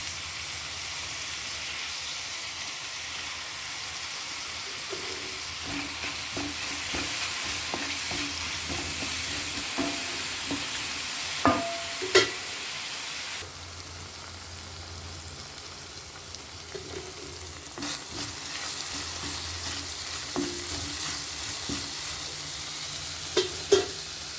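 Steady sizzling of a thadka tempering frying in a hot pan, with scattered scraping and clinking as it is stirred, continuous and close throughout with no speech.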